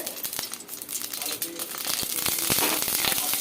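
Two spoonfuls of ghee heating in a pan for a Bengali vegetarian Ekadashi dish, giving a steady crackling sizzle with scattered sharp pops that build slightly louder toward the end.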